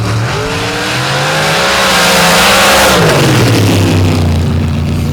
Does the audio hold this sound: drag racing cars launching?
yes